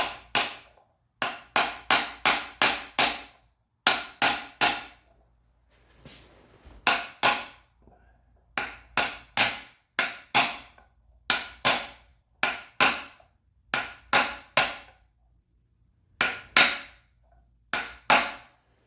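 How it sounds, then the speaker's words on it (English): Sharp metallic hammer taps on a socket driving in a seal come in quick bursts of three to five strikes, separated by short pauses, close and loud with ringing overtones. "Let's get a hammer. Let's tap this thing in here."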